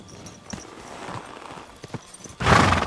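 Hollow clip-clop of a horse's hooves thudding on the ground in the video game Kingdom Come: Deliverance 2, a few scattered steps that swell into a louder, denser burst near the end.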